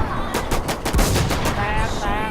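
Rapid automatic gunfire from the survival shooter Warz, a dense volley of close, loud shots fired in quick succession and running together with no pauses for the whole burst.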